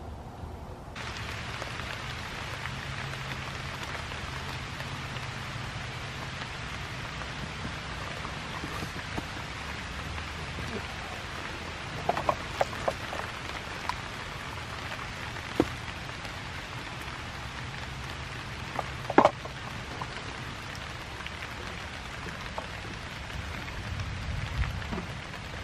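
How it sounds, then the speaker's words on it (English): Steady rain falling outdoors at a campsite, an even close hiss of drops with occasional louder taps on a surface, continuous for the whole stretch. "Comes the rain."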